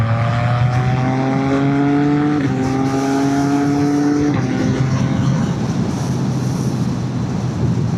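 CF Moto 675NK three-cylinder motorcycle pulling a roll-on in fourth gear, a loud, close, continuous engine note rising steadily in pitch, with a brief break near the middle before it climbs again, wind noise throughout.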